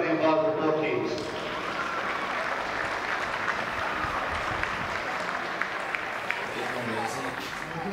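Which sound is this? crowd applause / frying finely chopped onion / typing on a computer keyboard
crowd applause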